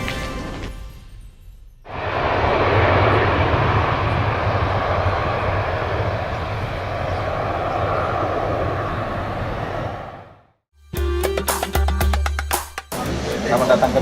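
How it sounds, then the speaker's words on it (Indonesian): Airplane engine in flight roars steadily from inside the cabin for several seconds, a broad even rumble that cuts off abruptly before other sounds follow. "Kita naik pesawat."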